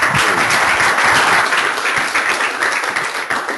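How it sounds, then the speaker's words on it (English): Loud, close applause from a conference audience after a presentation, a thick burst of clapping that holds steady then eases slightly toward the end. "Let's give them a round of applause."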